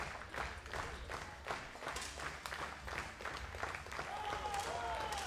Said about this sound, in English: The audience know what is at stake, so they start clapping.